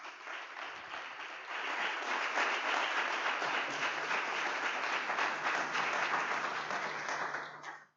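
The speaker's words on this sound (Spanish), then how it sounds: "Y vamos a hacer un aplauso." A church congregation applauds, a dense, sustained wash of clapping that swells after a quieter start and then cuts off abruptly at the end.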